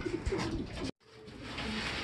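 Racing pigeons returning in an old-bird first-lap derby coo softly nearby. Low, rounded calls repeat several times, with a brief cut to silence partway through.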